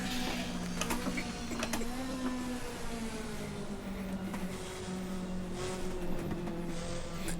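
A race car engine in the Assetto Corsa racing game, from the DRM Revival Pack, holds a steady droning note that climbs through the gears while pulling uphill, loud and continuous with no talking.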